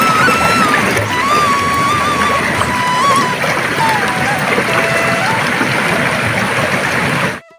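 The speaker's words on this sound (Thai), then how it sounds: "คือบรรยากาศ น้ำตก เขาเตาครับ ที่เงียบนิดหน่อยครับ" Water flows steadily at Khao Tao waterfall in Thailand, a broad rushing wash heard close, with birdsong whistling above it and faint voices, ending abruptly.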